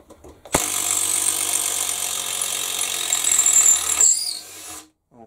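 A Makita impact driver backing out screws, a close, loud rapid hammering rattle lasting about three and a half seconds, then winding down and stopping.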